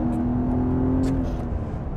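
A BMW 130i with a 265 hp six-cylinder engine revs steadily and close, its tone holding a sustained hum with a brief rising note in the first second, with no talking over it.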